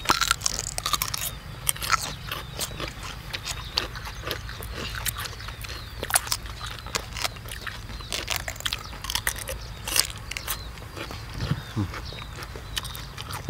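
Crunchy grilled cuttlefish tentacles being chewed, with repeated close bites and crunches in a steady rhythm, occasional brief talk in the background.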